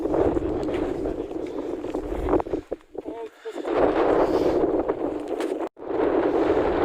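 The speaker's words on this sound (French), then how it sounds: "mauvaises conditions, beaucoup de vent" Strong mountain wind buffets the microphone in loud, roaring gusts, with brief lulls and a few faint tonal whistles between blasts.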